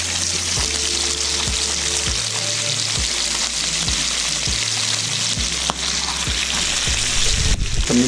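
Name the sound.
sliced fish frying in a pan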